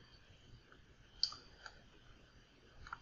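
Faint computer mouse clicks while a file is opened in statistics software: a few sharp, isolated clicks spaced across a quiet background.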